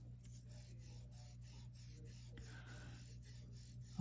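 Clay being lightly burnished along a cut gives soft, repeated rubbing strokes in a steady rhythm, quiet and close.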